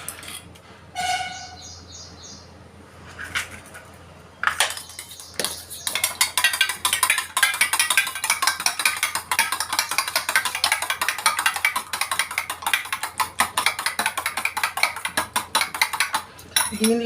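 Two eggs beaten briskly with a fork for an omelette, a fast steady run of light clicks and taps against the bowl, close and continuous for several seconds after a few scattered knocks.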